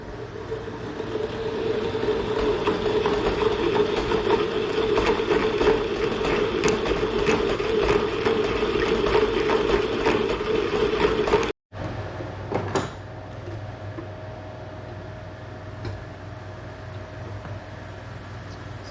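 A honey extractor spins frames of honeycomb with a steady, loud mechanical whir and rattle that runs for several seconds, cuts out briefly, then resumes as a lower rumbling hum. Nobody speaks.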